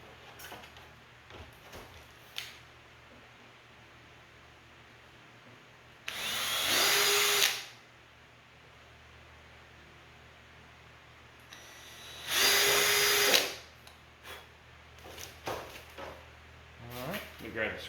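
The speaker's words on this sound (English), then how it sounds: "I'm going to come back from the top side and drill these through" Two bursts of a power drill whirring through an armrest in a 1978 C10 truck interior, each lasting about a second and a half, separated by quieter handling noises and light tapping.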